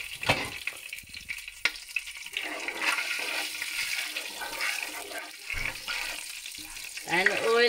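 Cumin seeds hit hot oil in a pan while cooking masala fish, giving a steady crackling sizzle with sharp spits that carries on for several seconds, close up, with a louder hiss and stirring noises toward the end.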